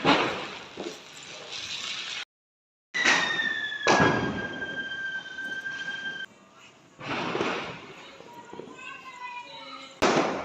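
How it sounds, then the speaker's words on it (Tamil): Sharp firecracker bangs burst now and then amid a lively outdoor Diwali crowd, with children's voices chattering and shouting throughout. "நல்லா பட்டாசு வெடிச்சிட்ருக்காங்க"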